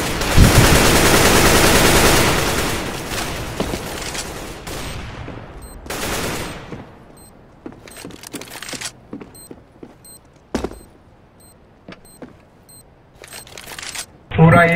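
Gunfire in Counter-Strike: Global Offensive: a long heavy burst of automatic fire at the start, then scattered sharp single shots and short bursts, with a voice talking at times.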